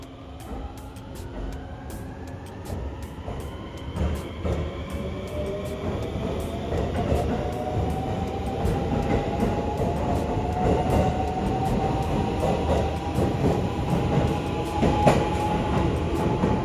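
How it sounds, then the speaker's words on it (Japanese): The last train on a Japanese rail line pulls out of the station, its motor whine rising steadily in pitch as it accelerates over clacking wheels, loud and close, with no talk. "佐賀路線の最終列車が発車です。"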